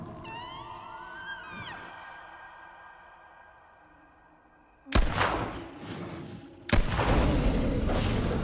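Two heavy gunshots boom in The Quarry horror game, each a sudden loud blast with a ringing tail, the first arriving after a stretch of eerie tonal sound effects.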